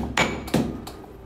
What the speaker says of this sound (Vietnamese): mình cứ đập dập nó ra